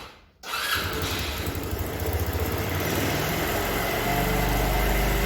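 A Mondial 150 RF motorcycle engine with a newly replaced exhaust starts after a brief pause and settles into a loud, deep, steady idle with a throaty rumble, heard close up.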